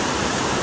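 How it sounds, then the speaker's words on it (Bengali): Rushing water at a cold mountain bathing spot on Parasnath Hill, Jharkhand: a dense, loud, unbroken roar of pouring water fills the brief moment. "আর জলের শুধু আওয়াজটা ফিল করো, প্রেসারটা শোনো।"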